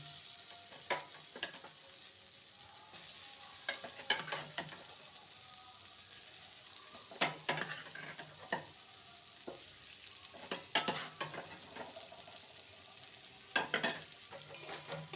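Fried potato and snake gourd are stirred into masala in a pan, with a low background sizzle broken by repeated clusters of sharp spatula scrapes and clinks, fairly quiet overall.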